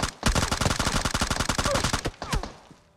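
An M16 rifle fires in PUBG Mobile, a loud, rapid string of close shots in a steady rhythm lasting about two seconds, followed by a couple of scattered cracks as it tails off.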